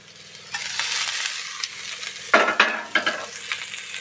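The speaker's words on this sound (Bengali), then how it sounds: "এই পেঁয়াজ কুচিটা এবার দিয়ে দেবো।" Chopped onion hits hot oil for chow mein, hissing loudly, with a spoon or spatula scraping and stirring against the pan in a few sharp strokes.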